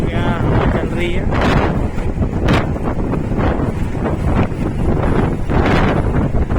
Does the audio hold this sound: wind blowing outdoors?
yes